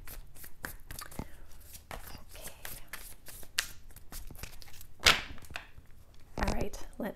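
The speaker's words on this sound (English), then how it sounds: "So I'm going to give this just a really good shuffle." Tarot cards being shuffled up close, with repeated crisp slaps and riffles in an irregular rhythm, a sharper swish near the end.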